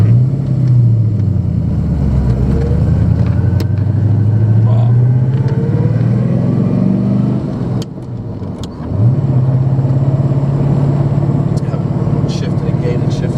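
A 1974 Pantera sports car drives at low speed, its deep engine note rising and falling as gears are shifted through a gated shifter, with one brief drop in revs mid-run, while someone talks over it.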